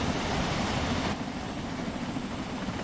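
Steam locomotive running in the Train Sim World 2 video game, a steady loud rumble and hiss of the train in motion, easing slightly partway through, with no talking.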